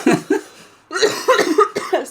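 A man coughs hard and raspily, with a couple of short coughs, a brief gap, then a longer chesty burst of several coughs, loud and close.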